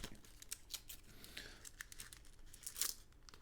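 Paper wrapping of a roll of $2 coins tearing open close by, a quiet run of short crinkling rips and crackles with a louder burst near the end, no talking.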